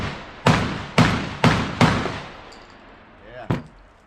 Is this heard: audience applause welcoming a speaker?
no